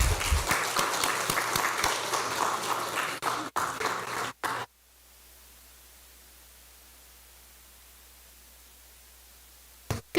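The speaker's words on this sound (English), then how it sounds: "give her a round of applause." Audience applause for a speaker at a diabetes symposium, a burst of clapping lasting several seconds that cuts off abruptly into near silence with faint hiss, then a brief click at the end.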